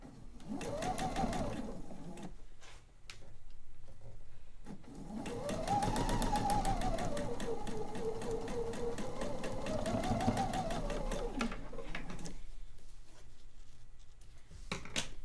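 A dual-feed sewing machine with a built-in walking foot stitches quilt fabric, its fast, even motor hum and needle chatter running in long bursts separated by short stops, close and alone.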